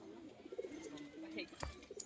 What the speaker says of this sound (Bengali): এসব পায়রা দেখুন একদম পুরো মাতাল